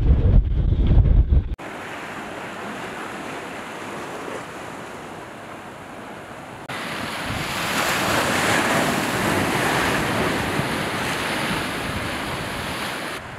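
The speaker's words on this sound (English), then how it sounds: "It's quite windy." A strong southerly wind buffets the microphone at a marina in Coffs Harbour, with a steady roar of waves and gusts that build louder partway through, no voices present.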